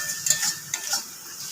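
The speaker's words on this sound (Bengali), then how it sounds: "এবার আমি গুঁড়ো লঙ্কা আর হলুদের সঙ্গে আরেকটু মশলাটাকে কষিয়ে নেব" Spices sautéing with chili powder and turmeric in a pan, giving a few quick scraping stirs and light clinks over a soft sizzle, close and fairly quiet, no voices.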